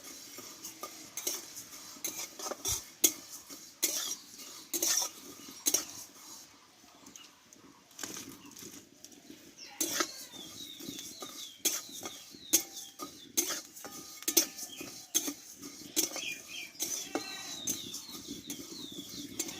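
Steady scraping and clinking of a spoon stirring spices frying in a pan for homemade Maggi masala, with soft sizzling underneath and irregular sharp taps throughout.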